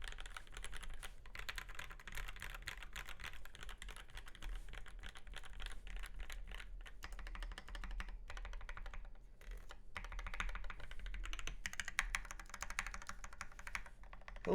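Fast typing on a custom Qlavier Quasi Alice mechanical keyboard with EV-01 linear switches, a dense continuous patter of close keystrokes that runs without a break, with no talking.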